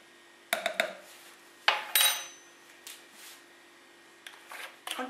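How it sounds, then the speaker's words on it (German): A spoon scrapes and clinks against a bowl while almonds are stirred into cinnamon star dough, with a few sharp knocks and shuffling scrapes separated by quiet pauses. "Und die Mandeln werden jetzt eingerührt."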